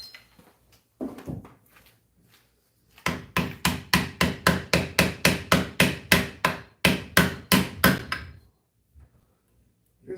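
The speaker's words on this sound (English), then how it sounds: "I'm going to try to use these wood chisels a little bit and see how that goes" Wood chisels struck with a hammer to punch out wood, a rapid run of about twenty sharp, evenly spaced blows, close and loud, after a few scattered knocks.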